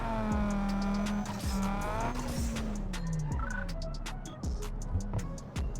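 Race cars in Need For Speed Underground 2 during a custom race at an airport track: loud revving engines rising and falling through gear shifts, with tire squeals and skids over a constant roar.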